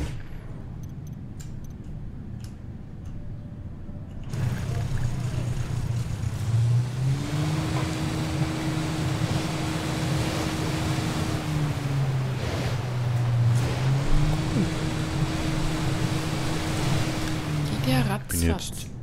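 A car driven in the video game Ghost Recon Wildlands starts after a quiet stretch, then a steady engine drone rises and falls through gear shifts, loud and continuous, with people talking over it.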